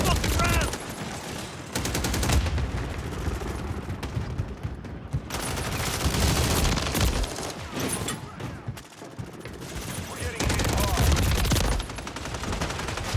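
An automated turret in a first-person shooter blasts out dense, relentless rapid fire that runs almost without a break for over ten seconds, loud and close, with other gunfire crackling on top.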